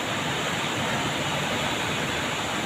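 Big, rough sea waves roll in offshore where fishing boats are out, a steady loud broadband wash of surf and wind with no break and no voices.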